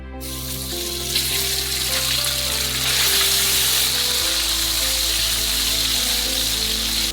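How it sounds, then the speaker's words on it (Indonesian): Loud, continuous sizzling and crackling of chicken frying in hot oil in a pan, close by, with a steady hiss throughout. "Lalu goreng ayam terlebih dahulu."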